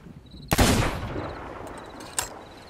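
Weapon gunfire in the video game Sea of Thieves, one loud sharp shot followed by a decaying rumble, then a second fainter report near the end.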